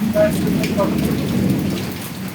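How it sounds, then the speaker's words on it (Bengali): Steady, dense rainfall pours down throughout, a constant hiss of heavy rain with a low rumble underneath and no voices. "চমৎকার সুন্দর বৃষ্টি"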